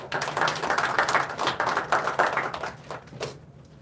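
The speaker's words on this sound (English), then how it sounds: "Please give her a round of applause." At a Guru Nanak Dev Ji Gurpurab celebration in the NSW Parliament in Sydney, an audience gives a round of applause: brisk, dense clapping close by that thins out and stops near the end.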